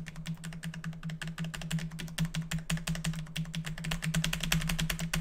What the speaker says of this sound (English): that's probably really annoying for you guys to hear the keyboard spam